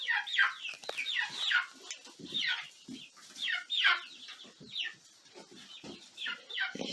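Backyard chickens clucking close by in late autumn, a run of repeated bright clucks and short calls in uneven bursts, with no talk over them.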